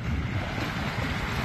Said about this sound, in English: this is called Turtle Beach.